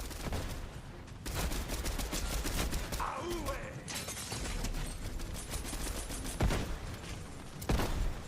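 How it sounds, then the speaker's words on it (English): Rapid rifle gunfire bursts in a PS5 shooter game, sharp repeated shots mixed with in-game mechanical clatter and dense action noise at steady loudness. "Get headshots with the rifle."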